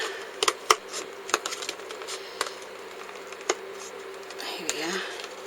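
Scissors snip around a circle to cut a window for a handmade fairy house, a string of sharp, irregular close clicks and snips over a quiet room hum.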